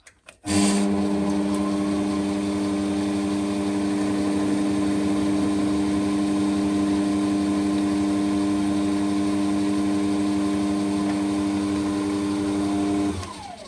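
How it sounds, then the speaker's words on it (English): A lathe starts a hole in a pipe blank, drilling with the quill. The motor runs as a steady, even hum for about thirteen seconds, alone with no voices. "I'm going to start this by using the quill"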